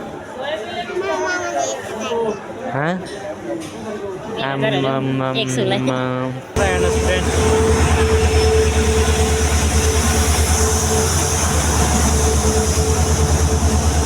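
People chat close by at a station, then a passing train's loud, steady rumble takes over, with a sustained horn-like tone running through it.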